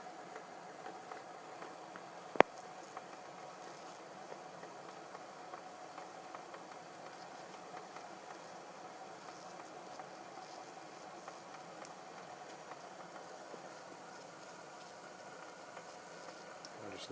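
Water boils in a pot heated by homemade fuel tabs, a steady low bubbling and hiss that stays faint and even throughout, with one sharp click near the start.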